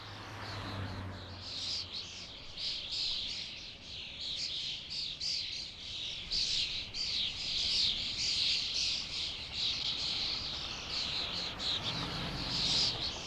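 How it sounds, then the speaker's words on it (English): A large flock of starlings roosting in cypress and pine trees at a cemetery in Rome chatters in dense, continuous high-pitched chirps and squeaks at a distance. "The starlings seek refuge in the evergreen trees"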